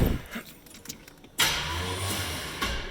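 A 1951 Pontiac Streamliner two-door fastback cranks and fires after a brief rattle of keys, its engine catching abruptly and settling into a steady, close idle with a slight rev near the end.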